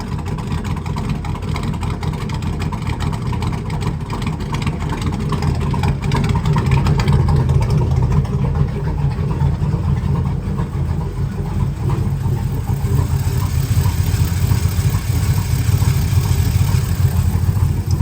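A truck engine with a newly installed TSP cam runs continuously on its first start, a loud, rough, lopey idle with a steady deep rumble and slight swells in revs throughout.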